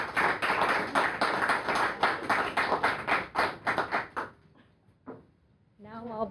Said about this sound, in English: if everyone could welcome her with a nice round of applause